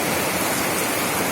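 Rain falls in a steady, dense hiss with no breaks, close and even throughout, with no voices.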